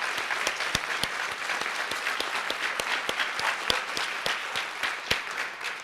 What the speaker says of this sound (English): just one last round of applause for all of the amazing people up here tonight